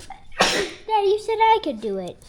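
Sharp, loud sneeze close by, followed immediately by someone talking.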